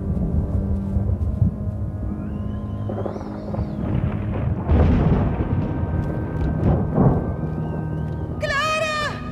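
Summer thunderstorm in an animated Heidi scene, long rolling thunder over steady heavy rain throughout, loud and close, with a short burst of dramatic music at the end.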